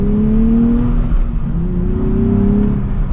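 A 2024 Nissan Z Performance accelerating hard, its engine pulling with a loud steady drone and rising tone, briefly dipping mid-pull before climbing again, heard from inside the car.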